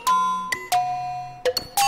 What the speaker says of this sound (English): If you turn them both up, you just end up with a lot of high frequency chirps